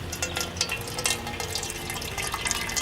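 Water trickling and dripping out of a squeezed Sawyer Squeeze filter outdoors, a faint, steady splashing with small drip accents over background noise.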